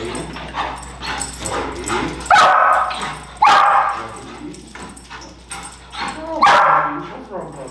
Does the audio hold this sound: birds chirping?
no